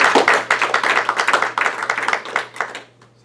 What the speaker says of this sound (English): Grant him a round of applause.